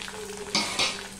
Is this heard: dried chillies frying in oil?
yes